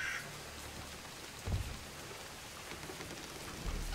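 Rain falling in a Bigfoot-themed video game, a steady soft patter and hiss at low level with a couple of brief low thumps, no talking.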